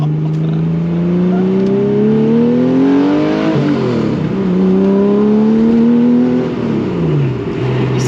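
Porsche 911 (RWB) fitted with a 964 engine, its exhaust revving loudly up and down in steady sweeping climbs and drops, close and continuous with no talk.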